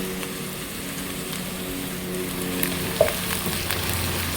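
Broccoli stir-frying in a pan gives a steady, close sizzle throughout, with a few brief clatters of a utensil moving the florets near the end.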